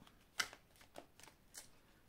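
Astro Crush oracle cards are shuffled in a few quick, faint riffles and taps, close by and alone in a quiet room.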